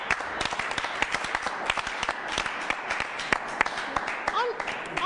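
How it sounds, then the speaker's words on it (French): A studio audience claps in scattered, uneven hand claps, individual sharp slaps rather than a dense roar, while people talk and exclaim over the clapping. "Applaudissez pour lui."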